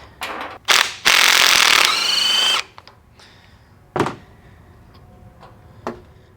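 Ratchet with a 17 mm socket working on a dirt bike, a loud burst of rapid clicking followed by a few sharp single clacks and taps, close up.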